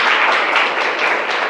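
Students clapping loudly together in a classroom, a dense, steady burst of applause filling the whole short stretch with no voices.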